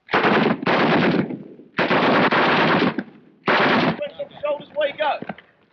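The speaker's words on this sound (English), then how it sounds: "And you'll be taught to fire the other weapons carried by the Royal Marines, such as the GPMG." A GPMG general purpose machine gun fires on a Royal Marines range in loud, sustained automatic bursts, three long strings of rapid shots separated by short pauses, followed by a rattling tail of echoes.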